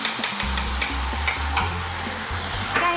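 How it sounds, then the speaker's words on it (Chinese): Beaten egg poured into a hot pan sizzles and fries steadily, with occasional stirring and scraping clinks close by. There is no talking. "然后刚才打好的蛋，现在我们放下去，把它煎一煎。"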